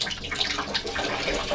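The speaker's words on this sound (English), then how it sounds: "Now I'm gonna rinse with a little bit of water." Water rinses over a marbled paper print with a short, continuous splashing rush, close and fairly loud.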